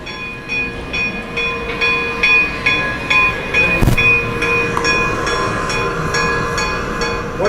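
A train rumbles steadily with rhythmic clicking of wheels on rails, a loud continuous recorded rolling sound with no talking.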